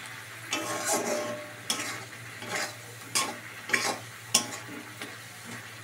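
Spices sizzle in hot white vegetable oil for a Bengali fish curry while a spoon stirs them, giving soft scraping strokes and occasional louder clinks against the pan, fairly quiet and close, with no voice.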